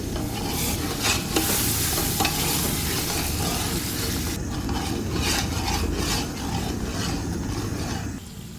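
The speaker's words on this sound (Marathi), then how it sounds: "हे देखील याच्यामध्ये मी छान असं फ्राय करून घेणार आहे" Onions sizzle and fry steadily in a pan for hotel-style dal makhani, a continuous loud crackle with a spatula scraping and stirring through them. The sound is close and unbroken.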